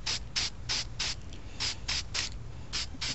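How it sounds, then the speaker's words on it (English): Short hissing bursts of a spray can spraying primer onto a plastic model kit, about ten quick sprays in an uneven rhythm, close and fairly loud with no talking. "I just start spraying right onto the plastic"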